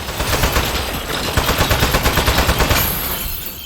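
Rapid, loud gunfire in the video game Aperture Desk Job as a speed-up switch is shot, a tight rhythmic string of close shots lasting several seconds with no voices.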